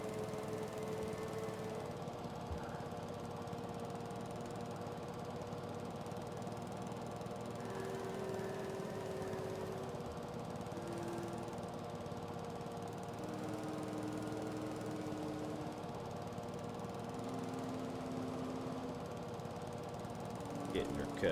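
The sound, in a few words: mower running in video game Farming Simulator 22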